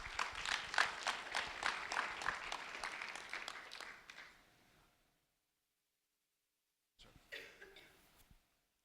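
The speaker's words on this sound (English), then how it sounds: "a round of applause for Ryan Peltier" Applause from an audience honoring sixth-grade student Ryan Peltier at a county sheriff's office recognition event: a few seconds of quiet, steady clapping that fades out, then a second short burst after a pause.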